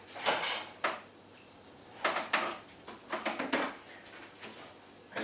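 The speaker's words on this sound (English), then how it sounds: "And you stir it around." A flour and milk mixture stirred in a pan, with irregular scraping strokes and light metallic clinks of the utensil against the pan, close and moderately loud between quiet pauses.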